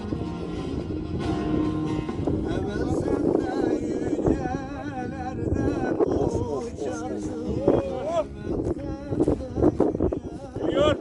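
Strong wind roars and buffets the microphone continuously on a 2,300 m hilltop in Ordu, Turkey, while people talk and call out over it.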